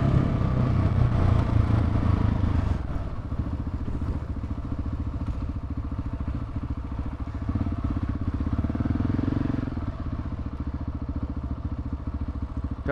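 A KTM 690 single-cylinder motorcycle rumbles steadily while riding, loud and close, with a heavier low engine note at the start that eases to a steady cruising drone with slight swells in throttle.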